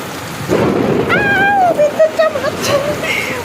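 A thunderstorm with heavy rain gives a steady wash of downpour under a low rumble, while a wavering tonal call rises briefly over the noise.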